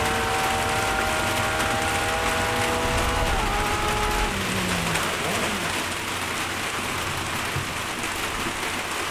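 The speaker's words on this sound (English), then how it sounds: "Oh, it's raining quite hard now, I can hear it." Steady heavy rain pours down in a dense, continuous hiss, with a few faint tones fading out early on.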